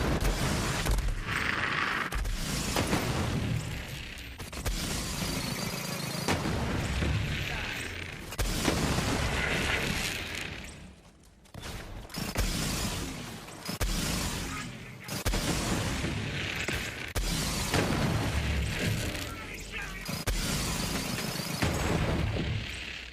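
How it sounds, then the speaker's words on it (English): Radiation explosions and heavy gunfire fill a Borderlands video game fight on True Vault Hunter mode, with dense continuous booms and blasts layered with game effects and brief lulls throughout. "that explosion will just take him right out."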